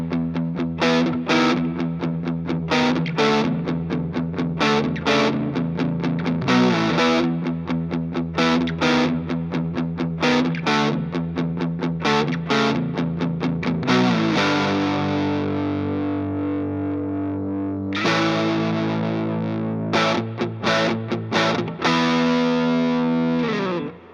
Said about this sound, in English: Here's the sound of the Tube Screamer.